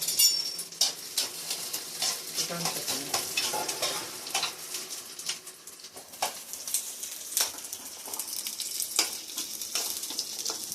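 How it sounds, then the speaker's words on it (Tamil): Curry leaves, shallots and garlic sizzling in a pan while being stirred, with a continuous frying hiss and repeated scrapes and clinks of the utensil against the pan. "கொஞ்சம் கருவேப்பிலை போட்டு சின்ன வெங்காயம் கொஞ்சம் பூண்டு போட்டு வதக்கிடலாம்"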